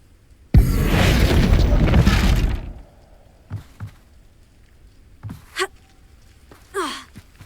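A Bombarda spell explosion in Hogwarts Legacy, one loud booming blast lasting about two seconds, followed by scattered debris clatters and small effects in an otherwise quiet scene.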